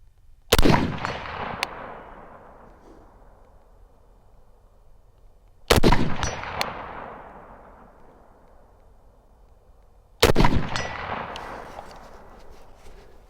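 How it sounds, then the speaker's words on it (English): Three sharp, loud rifle shots from a Sig Rattler LT chambered in 7.62x39, fired at steel targets outdoors, spaced about five seconds apart, each with a long ringing decay and echo. "So shooting this little guy, a Rattler LT by Sig in 762x39."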